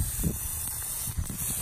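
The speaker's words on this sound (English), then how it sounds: "Just spray on your head." Water sprayed onto a person's head outdoors, a soft steady hiss with brief louder bursts, close and alone without talk.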